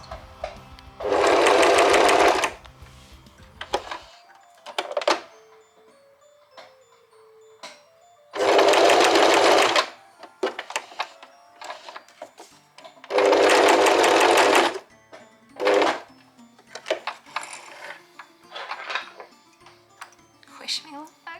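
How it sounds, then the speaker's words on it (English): Sewing machine stitching apron straps cut from a bed sheet, three loud bursts of rapid whirring stitching lasting a second or two each, separated by quiet handling and bursts of talk. "I'm sewing."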